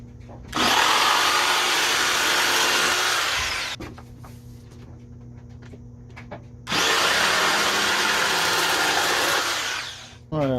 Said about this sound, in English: so I'm gonna go ahead and cut these out too.